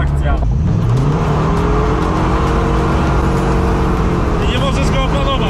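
A Dodge Viper accelerates hard from a standing start with little traction, its engine note loud and continuous and rising in pitch, with people talking over it inside the car.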